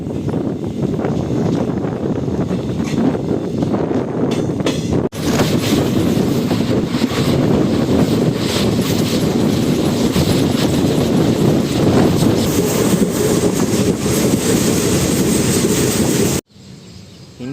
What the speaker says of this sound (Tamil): நம்ம ட்ரெயின் கிளம்பிட்டாச்சு